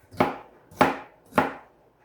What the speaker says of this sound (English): And we're just going to cut it into bite-sized pieces